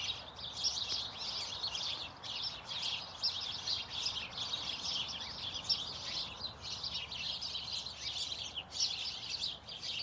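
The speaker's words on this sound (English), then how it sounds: "They just keep on chirping." Birds chirp continuously in a backyard, a dense, busy chorus of high tweets that stays at a fairly even level, soft and somewhat distant, with no voices.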